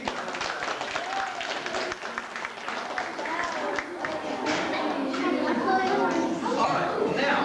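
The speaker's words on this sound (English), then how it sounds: "They give a round of applause to our 3 people." An audience at a primary school history workshop gives a round of applause, a dense patter of claps mixed with children's chatter and voices that runs steadily through the whole stretch.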